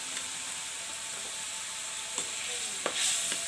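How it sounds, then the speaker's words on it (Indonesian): Spotted dove meat frying in a hot pan with oyster sauce seasoning, a steady bright sizzle throughout, with a few scraping stirs of a utensil near the end, close and fairly loud, no talking. "Setiap kali goreng kok kesonyok terus ya teman-teman ya"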